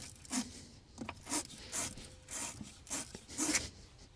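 Battery terminals on a farm recovery truck are scrubbed and wiped in a series of short, rhythmic rubbing and scraping strokes, close up, about eight bursts with brief pauses between.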